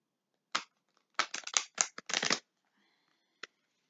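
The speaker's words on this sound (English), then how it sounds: "I'm shuffling the cards right now" Oracle cards being shuffled by hand in a quiet room, heard as several short papery riffling bursts in close succession, with one brief snap near the end.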